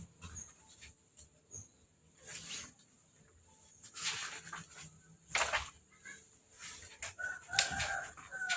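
Chickens cluck in short irregular bursts across a quiet yard, some louder and nearer than others, with no talk over them.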